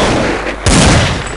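A single loud pistol shot from a Desert Eagle in a multiplayer shooter game, a sharp close blast that cuts through the steady game noise and trails off over about a second, with no talking.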